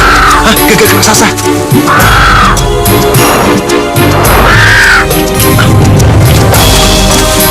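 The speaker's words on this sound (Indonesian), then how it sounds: "gagak raksasa." Loud, harsh caws from a giant crow in a dramatic scene, several rising calls standing out over a dense, booming backdrop of music and crashing effects.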